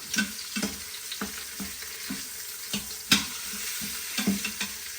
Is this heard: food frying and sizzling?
yes